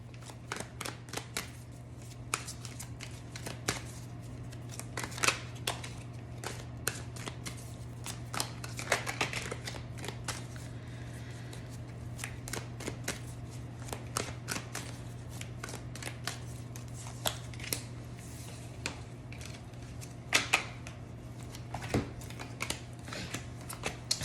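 A deck of playing cards is shuffled repeatedly in a rapid riffling rhythm, crisp close-up flutters and snaps recurring over a steady low hum, quiet and without talk.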